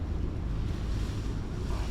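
Steady wind buffets the microphone with a low, rumbling roar that persists throughout, with no voices.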